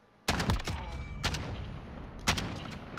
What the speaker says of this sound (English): They're shooting, Donna.